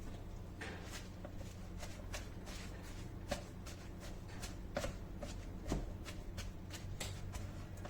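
Spinach and feta filling being mixed with pepper in a bowl, giving a steady run of soft, repeated clicking and scraping strokes, close and fairly quiet, with no talk.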